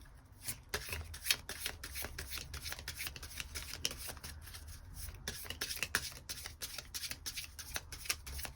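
Tarot cards are shuffled by hand before a draw, giving a soft, steady run of riffling and rubbing flicks that continues evenly at close range with no talk over it.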